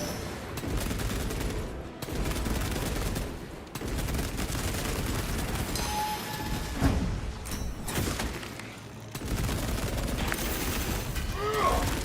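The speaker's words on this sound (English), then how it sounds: "Throwing frag grenade." A frag grenade thrown in the Space Marine 2 video game bursts amid continuous loud gunfire and battle noise, with thuds and booms over a dense, chaotic combat din and a radio-like voice speaking.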